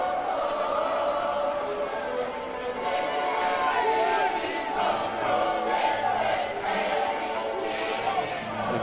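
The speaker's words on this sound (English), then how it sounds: "filled with chants and colour and celebration for the achievements of Adelaide Croatia Raiders" Fans of Adelaide Croatia Raiders at the 2023 State League One Grand Final, chanting and celebrating: a dense, steady crowd roar with rhythmic sung chants rising and falling, heard from a distance and continuous throughout.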